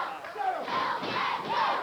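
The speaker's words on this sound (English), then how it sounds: "Crowd solidly behind Flash Flanagan." A wrestling arena crowd at a televised match cheers and yells steadily in a continuous, loud roar with rising shouts.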